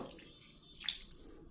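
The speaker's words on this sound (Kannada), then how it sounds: "ಸ್ವಲ್ಪ ನೀರು ಹಾಕ್ಕೊಂಡು" A brief, quiet splash of water being poured onto a chilli, coriander and garam masala spice mix, with a soft trickle near the middle.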